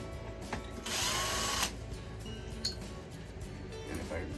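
A power drill backs screws out of a Bissell Spot Clean shampooer in short bursts. One longer whir is clear, with faint clicks and someone talking near and quietly.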